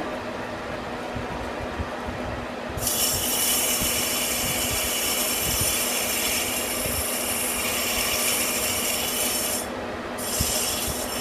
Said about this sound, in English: We were cutting at 55 RPMs and now we're cutting at 370.